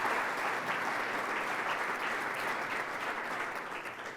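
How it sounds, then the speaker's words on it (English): A room full of forum attendees gives steady applause, a dense even patter of many hands that holds for a few seconds and then begins to fade. "Another round of applause for them as well,"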